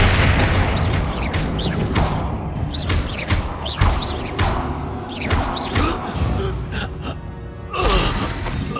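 Loud bursts of explosive spell effects in the Hogwarts Legacy video game come in quick succession, with booms, whooshes and impacts layered over dense game noise.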